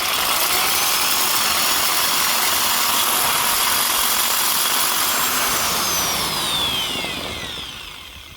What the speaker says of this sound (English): So I got out my trusty step drill and opened up the hole to 5/8 inch.